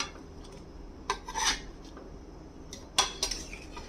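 Omelette pieces added to an Omelette curry pot with salt, a utensil clinking and scraping against the pot in a few short bursts between quieter stretches.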